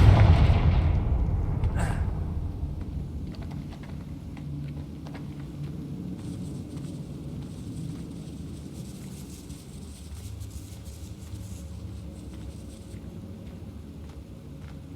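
Confringo fire spell blasting in Hogwarts Legacy: a loud, deep explosive burst at the start, then a quick sharp crack, fading into a sustained low rumble with faint crackles and game ambience.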